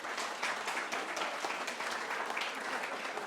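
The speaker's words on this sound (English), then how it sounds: "Could we give them a round of applause for their effort?" An audience at a gathering of Aboriginal elders and Traditional Custodians claps steadily in a continuous round of applause, fairly quiet and even throughout.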